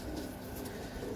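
A pigeon coos softly amid a loft of kept pigeons, a low murmuring coo over steady background noise, faint and continuous through the short stretch.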